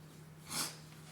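A man with allergies gives a single quick, breathy sniff, faint and brief, over a low steady hum from a running fan.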